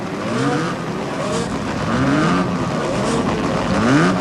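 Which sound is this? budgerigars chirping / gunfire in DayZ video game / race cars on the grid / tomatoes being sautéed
race cars on the grid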